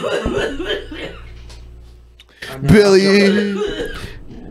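A person talks briefly, then after a pause a harsh burst of coughing from smoking weed erupts, mixed with a drawn-out strained vocal sound, close and loud.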